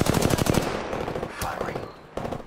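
Automatic weapon fire in the video game Apex Legends: a rapid burst of loud, close shots at the start, then scattered single cracks, with a short second burst at the end.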